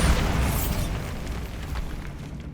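A Bombarda spell blast in the Hogwarts Legacy video game: a loud, close rumbling explosion that starts strongly and decays into a long, noisy roar over a couple of seconds.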